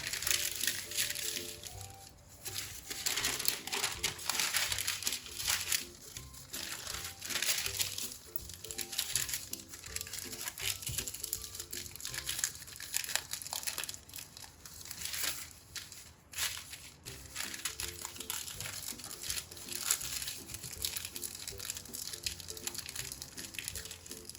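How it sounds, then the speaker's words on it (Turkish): Cooking paper being folded for Turkish paper kebab, a steady run of soft crinkling and rustling over a quiet kitchen background, with occasional louder crackles. "Kağıdı katlıyorum."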